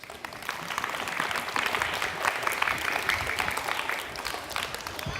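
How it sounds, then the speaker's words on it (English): An audience applauds award-winning dance instructors at a street dance event at Alphajoy, with dense, steady clapping that holds at an even level throughout, with no voices over it. "So a round of applause for them, please."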